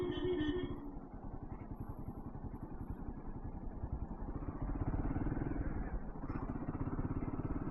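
A Royal Enfield Himalayan 450 motorcycle cruises along a coastal highway in India, its engine a steady close-up thrum with constant wind rush, running unbroken from start to finish with no talk.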